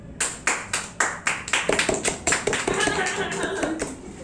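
Audience members at a talent show clap in time, with sharp rhythmic claps that start sparse and evenly spaced, then thicken into denser, overlapping clapping.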